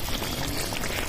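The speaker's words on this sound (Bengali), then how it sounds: "দু মিনিট ভালো করে ফুটিয়ে নেব" Vegetarian cabbage kofta curry boils in a pot, producing a dense, continuous bubbling and spattering hiss that stays fairly loud and even, with no voices.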